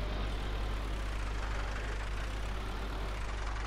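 A tractor engine idling in Farming Simulator 2019, the 165 model, giving a steady low rumbling drone that holds even and continuous throughout with no talk.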